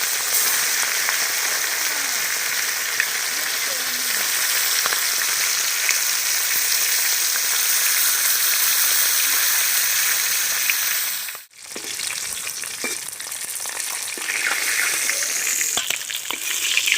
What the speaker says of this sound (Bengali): ওই একই তেলে আমি বাকি মাছগুলো ভেজে নেব।